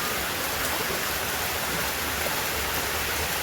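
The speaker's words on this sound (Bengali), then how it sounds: "প্রচণ্ড জোরে জোরে বৃষ্টি হচ্ছে" Heavy rain pours steadily and loudly, a dense unbroken hiss of drops close by with no pauses or other sounds over it.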